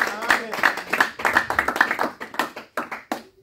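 Church congregation clapping in encouragement of a preacher, a quick run of sharp handclaps at close range, fairly steady then thinning out toward the end, with voices mixed in.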